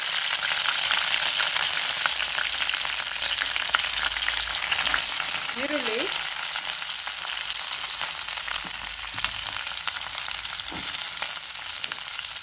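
Mustard seeds, chana dal, urad dal, green chillies and curry leaves sauté in hot oil over medium heat for vangibath, a steady broadband sizzle holding throughout, with a brief stir partway and no voices.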